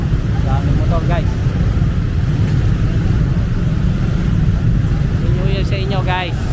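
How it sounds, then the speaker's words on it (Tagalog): Motorbike traffic streams through a busy street in Ho Chi Minh City on New Year's Eve, a steady close rumble of engines with horns beeping now and then and people talking over it. "Daming motor guys."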